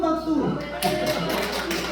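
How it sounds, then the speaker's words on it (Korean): A church congregation claps during a sermon, a burst of broadband applause that starts shortly after a voice and carries on steadily with speech around it. "또 한 번 박수."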